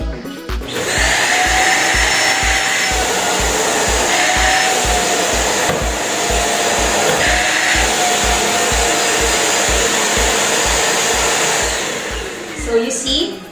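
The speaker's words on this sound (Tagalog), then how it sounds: "And maririnig nyo rin na low noise ang vacuum cleaner na to." A Deerma low-noise vacuum cleaner runs steadily in a house, a loud, even motor whine held for about twelve seconds, with a regular thumping pulse underneath, before it switches off.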